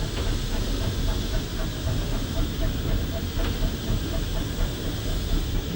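A preserved branch line steam locomotive hauls unfitted freight trucks at low speed, giving a steady loud rumble and hiss with faint rhythmic clicks of wheels over rail joints throughout.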